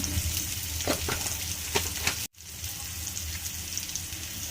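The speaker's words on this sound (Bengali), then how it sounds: "একটু সর্ষে ফোড়ন দিলাম" Mustard seeds tempering in hot oil give a loud, dense sizzle with crackling pops, broken by a brief silent gap before the frying continues steadily.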